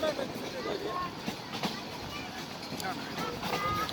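A passenger train runs after pulling out of Pakshi station toward Ishwardi, a steady rumble and rattle with wind noise heard from inside the carriage, fairly faint and continuous.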